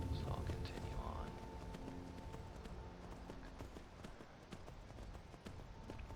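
Horse hooves clip-clop at a steady walking rhythm in Skyrim, faint and continuous over ambient game sound, with a voice talking quietly at times.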